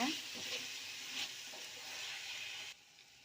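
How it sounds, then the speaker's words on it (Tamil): Chicken biryani masala seasoned with salt is stirred in a hot pan, giving a continuous bright sizzling hiss with soft scraping strokes that cuts off abruptly near the end. "உப்பு சேர்த்து நல்லா கிளறி விடுங்க"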